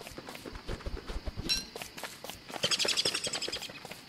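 Birds chirping in the survival game Don't Starve, a rapid run of bright tweets building in the second half over busy game footsteps and clatter.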